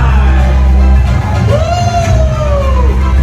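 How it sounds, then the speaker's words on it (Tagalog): Guests at a child's birthday party cheer, whoop and shout in a loud burst, with a rising then falling yell standing out over the crowd noise. "Bigyan natin ng masigabong palakpakan na may kasamang hiyawan."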